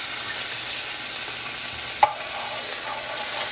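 Minced ginger and garlic, about a tablespoon of ginger to two of garlic, frying in hot oil for hibachi; a steady, even sizzle holds throughout, broken by one sharp click of a utensil near the middle.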